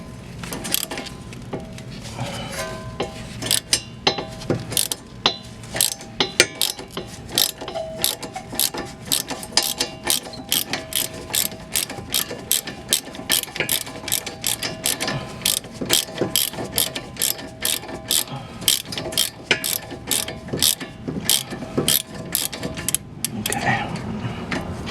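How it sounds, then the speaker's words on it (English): A ratchet turning a 17mm socket on an extension loosens the axle nut of a Ford Fusion, giving a long run of rapid, crisp clicking bursts close up with brief pauses between strokes. "grab a 17mm socket, and it's a little easier if you have an extension. Go ahead and loosen that up."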